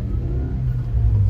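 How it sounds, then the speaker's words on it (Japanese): A kei truck's small engine drones steadily from inside the cab while riding, a continuous low rumble that swells slightly near the end, with no talk over it. "すごい軽トラ何年ぶりに乗ったんだろう"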